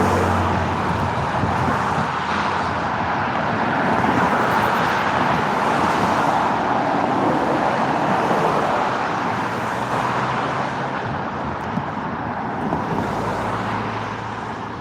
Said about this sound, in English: That traffic is way down yonder